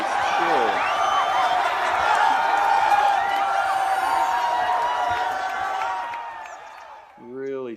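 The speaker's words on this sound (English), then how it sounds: "They've got that crowd mixed way too loud." A loud, dense crowd of spectators cheers and roars in a disc golf video game at a pro tour event in Scottsdale, sustained for several seconds before fading out as a voice begins.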